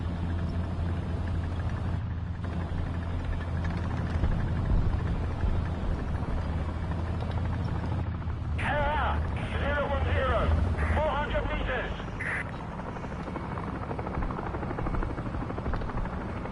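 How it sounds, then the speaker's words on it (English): An enemy helicopter in War Thunder makes a steady rotor drone under constant engine and wind rumble, and a short burst of warbling tones cuts in partway through. "Enemy helo."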